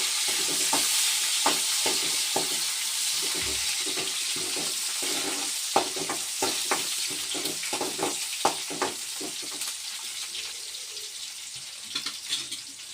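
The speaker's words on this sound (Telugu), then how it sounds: "వేసిన తర్వాత కొంచెం ఉల్లిపాయలు కూడా వేయాలి" Onions fry in a pan for drumstick leaf dal with a constant close sizzle, while the spatula stirs them in repeated scraping clicks and taps.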